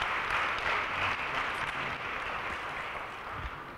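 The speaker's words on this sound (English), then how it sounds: "Can we do another big round of applause for all of our students?" Audience applause for high school students at a school event, a steady wash of clapping filling the room throughout without pause.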